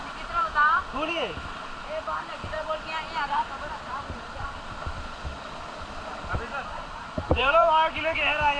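Gunehar waterfall in Bir, Himachal Pradesh, pours with a continuous rushing roar in the background while people talk nearby over the water.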